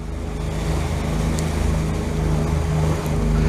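A motorboat outboard engine, tilted up to raise the bow, drones steadily, a low continuous hum with slight tonal harmonics and water noise, loud and close throughout.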